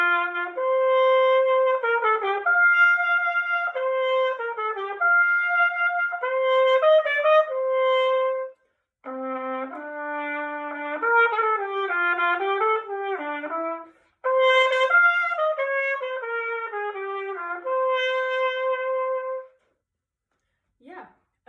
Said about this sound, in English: Yeah, so I will demonstrate how it sounds like in song.